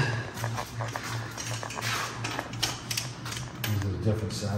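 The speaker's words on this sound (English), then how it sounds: "So we're going to finish up torquing these wheels" A torque wrench tightens wheel lug nuts with rapid mechanical ratcheting clicks, close and busy, under a steady low hum and with some voices.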